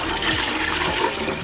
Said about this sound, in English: All the water is gonna go in.